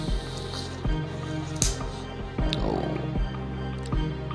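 Greek yogurt, protein powder and milk stirred together in a bowl, a series of close wet squishes and spoon clicks in a loose repeating rhythm.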